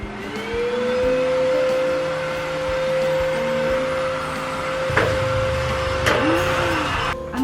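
A handheld vacuum cleaner with a Type-C cord runs steadily and fairly loud throughout, its motor whine holding level with a few brief knocks and bumps near the end, in a newly moved-into apartment in Cebu.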